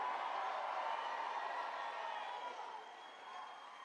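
A large crowd at a Trump campaign rally in Pennsylvania roars and cheers in a continuous wash of noise that eases slightly toward the end, heard at a distance with no clear voices.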